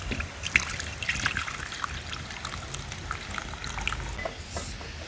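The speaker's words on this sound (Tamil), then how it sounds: "இப்போ வந்து புளி ஊற்றப்படும் ரசத்துக்கு." Tamarind water trickling and pouring steadily into a pot of rasam, with small splashes and drips over a low background rumble.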